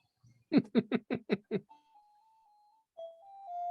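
A house doorbell at the front door sounds, a run of six quick percussive strikes followed by sustained chime tones, clear and fairly close in a quiet room.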